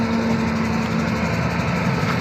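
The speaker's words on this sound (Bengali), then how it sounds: "এই দেখেন বিশ্ব রোডে গাড়ি চলতেছে" Large vehicles drive past on a busy highway, a steady, loud engine drone with low rumble and no break throughout, heard alone without talk.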